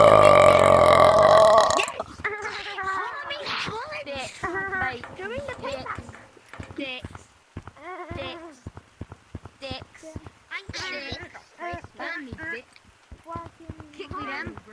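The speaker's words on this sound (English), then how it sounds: "Don't burp again." A loud, drawn-out human belch fills the first two seconds, followed by a long stretch of lively talking and laughter from several people.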